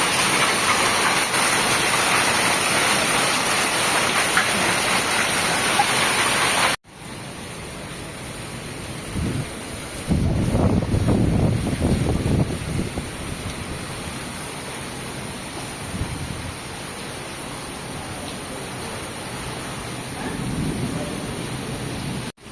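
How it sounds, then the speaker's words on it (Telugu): A heavy hailstorm with pouring rain fills the air with a loud, steady, dense hiss, softening partway through as deep rumbles of thunder roll in midway. "వడగండ్ల వాన దంచి కొట్టింది అరగంట"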